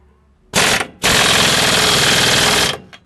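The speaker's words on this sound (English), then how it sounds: "just the quick spin of the impact gun will tighten them down" Pneumatic impact gun spinning down bolts on a step bumper, two loud bursts of rapid hammering rattle, a short one then a sustained two-second run, close and alone.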